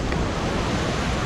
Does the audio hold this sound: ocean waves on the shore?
yes